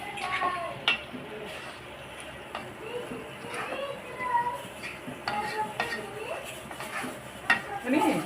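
Cashew curry being stirred after masala is added, with a spoon scraping and clinking against the pan in steady, moderately loud strokes over a low background hiss.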